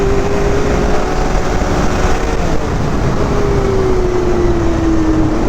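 A Ski-Doo 900 ACE Turbo snowmobile engine drones steadily and loudly on a test ride, a constant close roar with a faint whine that dips in pitch midway.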